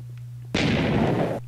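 Ghast fireball explosion in Minecraft, a single loud broadband blast lasting under a second over a steady low game hum, fading out abruptly.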